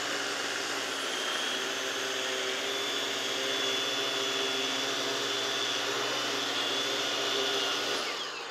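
A trenching cutter slices a narrow slot in a lawn for robotic mower boundary wire, giving a constant whining, whooshing motor drone that holds steady for about eight seconds before easing off, with no talk.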